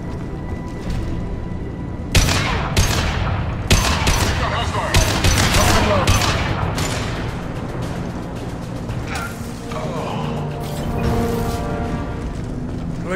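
Heavy gunfire on Omega in Mass Effect 2, a loud, sustained volley of rapid shots with sharp cracks throughout, voices talking beneath the barrage.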